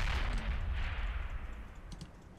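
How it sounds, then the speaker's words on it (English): In a war video game, shelling and mortar fire rumble as a continuous, muffled barrage of low booms and crackling impacts, fairly faint and distant, with no talk over it. "We're still getting shelled, or mortared, and or both"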